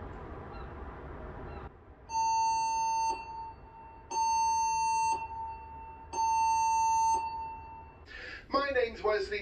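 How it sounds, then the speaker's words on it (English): A cruise ship's general emergency alarm sounds aboard the P&O Iona during a test: three long, loud electronic tones in a regular pattern with short gaps, followed by a burst of chirping at the end. "The general emergency alarm is about to be sounded for guest familiarization"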